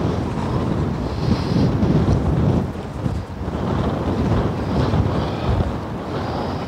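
Steady outdoor wind roars continuously across the whole stretch, buffeting the microphone with low rumbling gusts that swell and ease, during an open-air primitive-movement exercise session; no one speaks.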